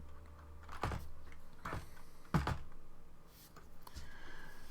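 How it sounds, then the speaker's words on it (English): Separate key presses on a computer keyboard, sparse and uneven, each a short sharp tap against faint background hiss, with no talking. "So I'm going to type,"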